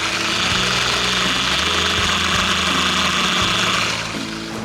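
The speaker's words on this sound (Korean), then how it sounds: "엔진 소리 먼저 들려드리겠습니다" A 4WD SsangYong Rexton W SUV engine idles close by outdoors with a steady, low rumbling hum and faint knocking, holding constant with no voices.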